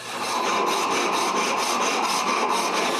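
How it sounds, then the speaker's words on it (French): A plywood offcut being cut to a traced shape, a steady, continuous rasping saw-like grind running close and loud without pause, no voices. "Je trace donc la forme que j'ai besoin sur un bout de contreplaqué, je le perce et coupe la forme."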